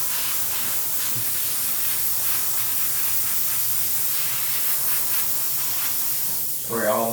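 Continuous steady spray-paint hiss from an aerosol can painting a deer taxidermy mount, close and loud, running without pause; a voice briefly cuts in near the end.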